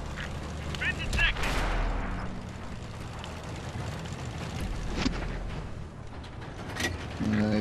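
Artillery shell strikes a tank in World of Tanks with a loud blast near 1.2 s, followed by rumbling engine noise, scattered impacts and further bursts, a sharp crack near 5 s and another near 7.3 s.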